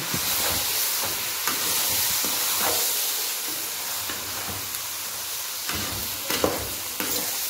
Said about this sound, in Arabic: الحته السمنه دي هتفك بقى، وننزل بالرز كده اهو